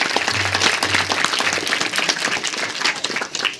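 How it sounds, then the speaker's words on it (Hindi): Audience applause for a Ramleela club at a Ramleela performance in Minjgran, Himachal, a dense burst of many hands clapping loudly and steadily, with a low tonal hum sounding intermittently underneath. "एक बार तालियां हो जाए इस क्लब के लिए।"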